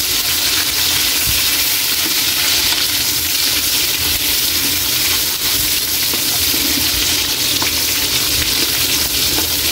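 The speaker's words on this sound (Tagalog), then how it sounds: "Hintayan lang natin kaili na maluto at mag brown konti yung bawang natin" Garlic and onion fry loudly in a pan for chicken adobo, a strong unbroken sizzle with faint stirring scrapes running underneath the whole time.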